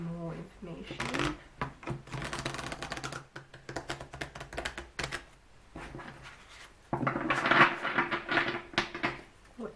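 A tarot card deck is shuffled in repeated bursts of crisp, fluttering card riffles and soft rustles, close by, with short pauses between rounds.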